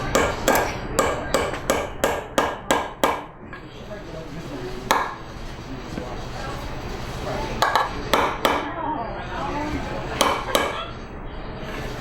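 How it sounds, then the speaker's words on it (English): Sharp metallic hammer blows drive 16-penny nails into the wooden neck of a cigar box guitar, a fast run of strikes, a pause, then further clustered taps, close and loud. "you drive the nails in about an inch or so away from the end, angling slightly towards the end"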